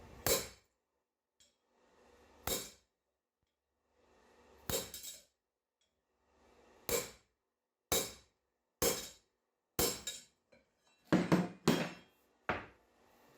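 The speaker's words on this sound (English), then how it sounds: "start hammering on some 1095 round bar" Sharp metallic hammer blows ring out one at a time, then in quicker bursts, with short silent gaps between strikes on 1095 steel round bar at a forge.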